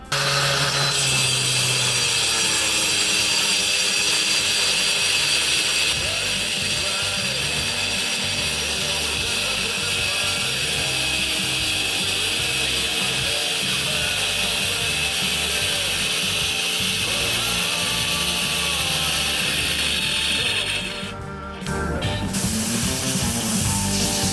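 A Crown CT-12325-25 wall chaser plunges to cut a 20 mm groove, producing a loud, continuous high-pitched grinding whine that holds steady for over twenty seconds, with one brief dip near the end.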